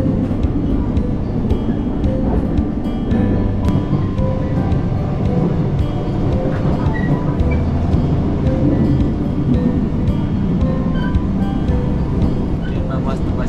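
Crowded moving train in Korea with passengers standing: a steady, loud low rumble and rattle of the carriage runs throughout, with a murmur of voices in the background.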